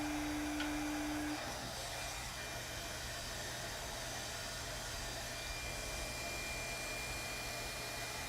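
A heat tool blowing hot air over a mixed media seahorse card, a steady close whirring hiss that holds without a break, no voices.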